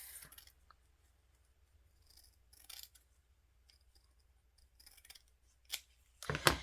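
Scissors snip through cardstock paper while cutting it into strips, giving a few quiet, close crisp cuts spaced apart, with a louder final snip and rustle at the end.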